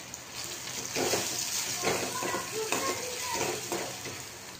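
Mango dal masala of chili powder, a pinch of turmeric, coriander powder and salt being stirred in a pan, giving a steady wet scraping and soft sizzle with faint water-like hiss throughout, no talk over it.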